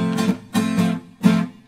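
An acoustic guitar strums the rhythm for a song: three short chord strokes with a muted, ghosted beat between them, close and moderately loud, with no voice.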